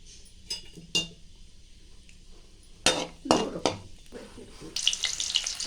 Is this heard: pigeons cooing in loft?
no